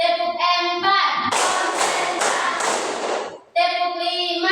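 Children clap their hands in a counting clap game, a short burst of several sharp claps between stretches of singing or chanting voices, close and clear.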